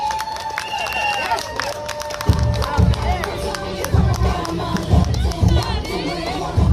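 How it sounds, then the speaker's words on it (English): Crowd cheering and applauding for a producer and founder at a San Francisco event, a roaring mix of claps and shouts that swells after a quieter start and stays loud and close. "give her another round of applause"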